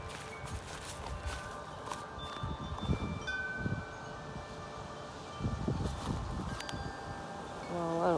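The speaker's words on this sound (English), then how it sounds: "Yeah, these trees are going crazy. It's really windy." Strong wind gusting through trees at night, a steady rushing roar that swells in surges with rustling leaves and some buffeting on the microphone.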